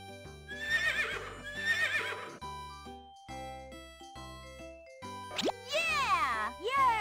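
A cartoon horse named El Caballo lets out a long, rising-and-falling whinny near the end, loud and clear over bright, bouncy children's cartoon music.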